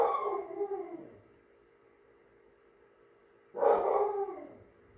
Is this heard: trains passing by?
no